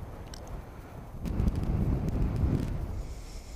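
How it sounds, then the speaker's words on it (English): Steady wind rushes and buffets the microphone outdoors on a hilltop near Mount McKay, growing stronger midway through with low rumbling gusts, no voices present. "It's windy up here."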